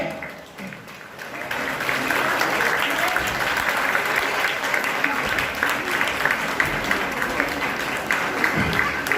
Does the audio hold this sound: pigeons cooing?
no